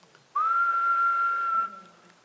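A single long, steady whistled tone held for over a second, imitating a kettle's whistle, then cut off abruptly.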